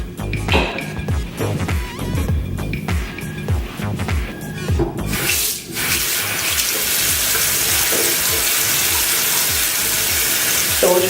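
Tap water runs steadily into a hotel bathroom sink, a continuous close splashing rush that fills the whole stretch, with faint handling noises over it.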